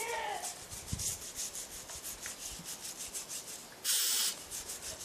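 Repeated quick scrubbing strokes of a stiff brush cleaning a 1969 GMC carburetor, steady and close, with a brief louder burst near the end.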